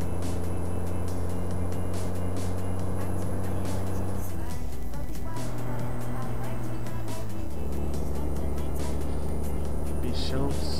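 Heavy truck engine in Euro Truck Simulator 2 roaring loudly and continuously on a mountain climb, its deep rumble dipping and rising with gear shifts.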